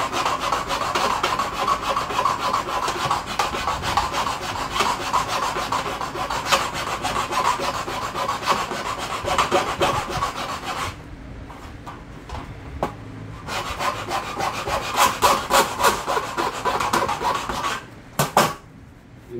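Sanding or filing down a car speaker mounting panel while fitting a 6-inch two-way speaker in a Kia Ray, giving a steady raspy rubbing with short pauses and a few sharp scrapes near the end.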